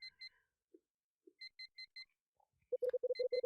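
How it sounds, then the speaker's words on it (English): An alarm clock in a cramped apartment in the video game Last Window beeps in short paired electronic bursts, then switches to a faster, louder run of lower beeps, close and clear. "The alarm in my cramped apartment starts to beep."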